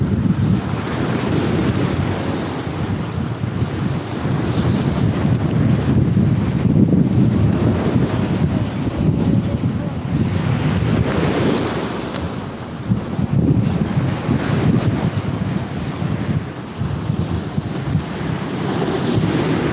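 Ocean waves roll continuously onto a shore, a steady loud wash of surf with gusting wind buffeting the microphone throughout, no voices.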